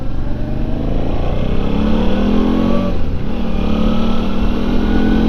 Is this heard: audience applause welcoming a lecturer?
no